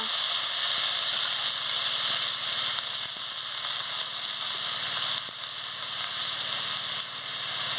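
Potatoes and onions with chilli frying in hot oil for aloo chorchori, a loud continuous sizzle and hiss that holds steady throughout with faint crackles and occasional ticks of stirring.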